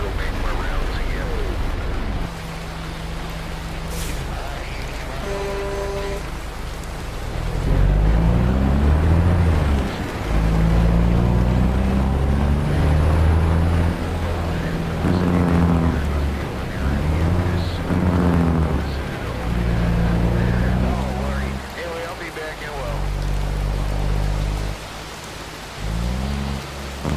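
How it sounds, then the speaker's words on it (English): Loud heavy rain pours down steadily, drumming on a surface with a dense hiss, alongside low rumbling and intermittent electronic tones. "Yeah, the rain is loud as shit."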